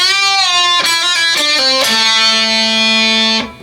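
An electric guitar plays a lick, loud and alone: quick bends, hammer-ons and pull-offs in a short run of clear notes, ending on a long held note with vibrato.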